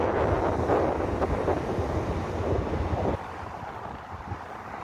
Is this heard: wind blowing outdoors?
yes